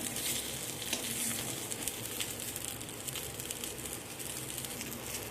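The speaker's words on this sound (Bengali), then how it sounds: "তো মাছটা তো আমার এখানে ভাজা হয়ে গিয়েছে।" Rohu fish frying in a pan gives a steady, dense sizzle with crackling spatter, close and even throughout, with no voices over it.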